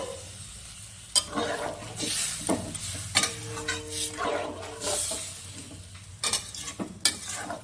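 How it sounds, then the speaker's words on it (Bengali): Water goes into fried spice masala with ridge gourd, sizzling and hissing in the pan while a spoon stirs with irregular scraping clinks and thumps, close and moderately loud. "এবার জল দিয়ে দিব।"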